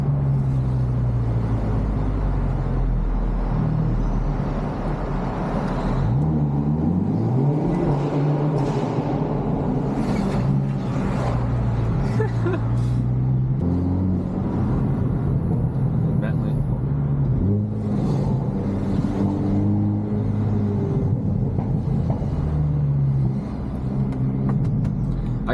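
A Hyundai Elantra N's turbocharged engine drones and surges while driving, with repeated rises and falls in pitch as it accelerates and shifts, heard from inside the car under steady road rumble, with occasional talk.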